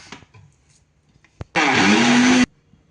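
A mixer grinder, with dabeli masala and citric acid inside, whirs loudly in one short burst of just under a second after a few faint knocks, then stops.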